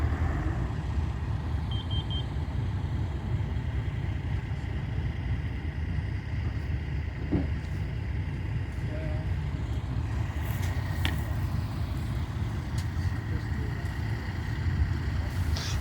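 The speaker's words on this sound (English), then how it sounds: "And they got the tractor out." A tractor engine runs at a culvert job site by an irrigation ditch, a steady low rumbling drone that holds continuously and fairly close, with faint clanks and a thin beep over it.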